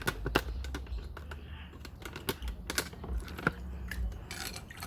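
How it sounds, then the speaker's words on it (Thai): A hammer lightly taps a tool to drill through a ceramic plant pot, giving a run of sharp, close clicks and knocks in an irregular rhythm with brief scraping between them. "ค่อยๆเจาะเบาๆค่อยๆลงน้ำหนัก คือไม่ต้องลงน้ำหนักไปกับค้อนอ่ะ"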